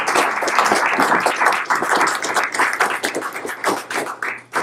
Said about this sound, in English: Can we give them all such a big round of applause?